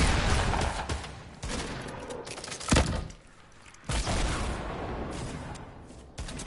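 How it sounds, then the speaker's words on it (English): Explosive blast of a rocket launcher hitting a player in Fortnite, a loud burst amid dense rattling gunfire and heavy booming game noise, near and chaotic. "I hit him with the rocket"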